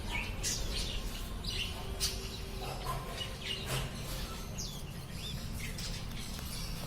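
Many small budgerigars chirp and tweet at once at a bird market, faint and constant beneath a steady crowded hum.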